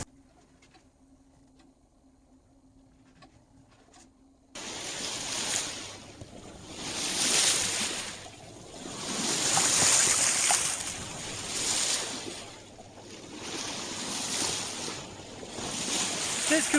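Sea waves around a sailboat on a calm Azores crossing with a one-metre swell, a rushing wash that rises and falls in slow surges after a quiet opening with faint tones.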